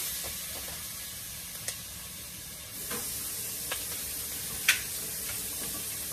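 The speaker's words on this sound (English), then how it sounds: "while I have my veggies still in here sauteing" Vegetables sauté in a hot pan with a steady, close sizzle, broken by a few faint clinks and stirring scrapes.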